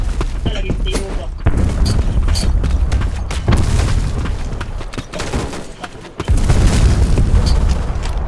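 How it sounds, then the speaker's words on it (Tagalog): A grenade blows up during a Black Squad 5v5 demolition match, with heavy booms, bursts of gunfire and clanking mechanisms; shouted voices break in between the blasts. "Grenade!"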